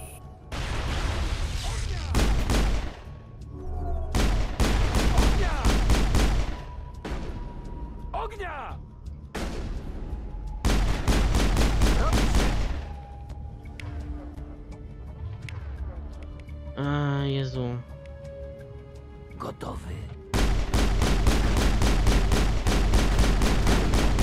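Pistol fire in the Mass Effect video game comes in repeated loud bursts of sharp shots, separated by quieter stretches in which a player talks.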